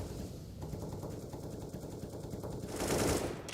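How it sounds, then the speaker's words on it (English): Sustained automatic gunfire from a Counter-Strike match sprays in a dense, rapid rattle throughout, swelling louder near the end over a busy game background. "Bullets being spammed"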